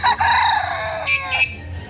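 A rooster crows loudly and close by at a chicken farm in Carbon, Cebu City, one long drawn-out call rising and then breaking off, with a clucking tail at the end.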